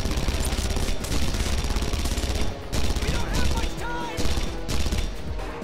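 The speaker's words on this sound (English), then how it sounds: "Oh, this gun feels so good to shoot." Gunfire in the PC shooter Red Faction Guerrilla Re-Mars-tered, loud and near, with overlapping bursts and heavy shots that roll on almost continuously. A short dip breaks the barrage midway, and voices may sit underneath.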